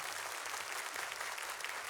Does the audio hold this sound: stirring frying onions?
no